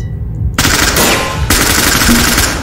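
Automatic gunfire in the tactical shooter Ready or Not: after a brief quiet start, loud sustained rapid bursts fire close by, with a short break partway through before the spray resumes.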